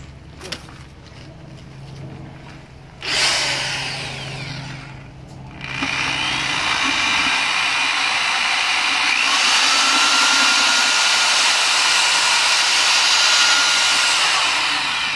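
A power drill mixes aircrete foam powder: a short whirring burst fades, then the motor starts again and runs as a loud, sustained, steady whine to the end.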